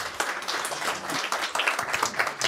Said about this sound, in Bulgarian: Аплодисменти за Ганчо